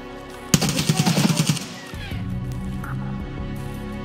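Escape from Tarkov gunfire opens with a rapid burst of about a dozen loud, evenly spaced shots that then stops, leaving a humming game background.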